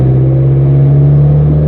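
A big-turbo Hyundai Genesis engine idles high at about 2,500 rpm, a steady, loud, close drone with a constant low hum and no talking.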